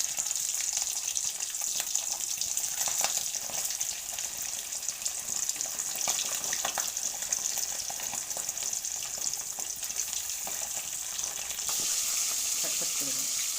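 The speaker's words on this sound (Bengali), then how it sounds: "এবার আমি একে একে মাছগুলো দিয়ে দিলাম।" Besan-coated pabda fish frying in hot oil in a kadai, a steady, close, loud sizzle and hiss that carries on without a break and with no talk.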